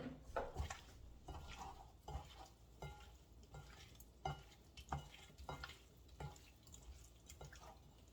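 Shrimp tossed into a pan with veggies give a quiet sizzle and soft repeated stirring clatter, faint and close with no talk.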